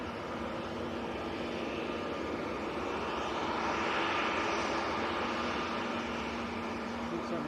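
Airliner jet engines at Manchester Airport, a steady, broad roar that swells slightly toward the middle and fades again over several seconds, with no talk during it.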